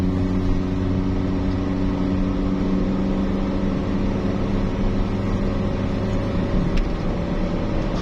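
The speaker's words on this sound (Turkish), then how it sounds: "Motor sesini içine alıyor ama yol sesini garip bir şekilde almıyor." Inside the cabin of a Hyundai Atos with an automatic gearbox, the engine drones as a steady, even low hum with a constant tonal whine, with no other sounds.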